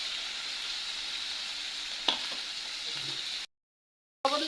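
Onion paste sizzles in hot oil in a wok for a vegetable and dried-fish curry. The even frying hiss is broken by one sharp stir click, drops out briefly, then comes back loud.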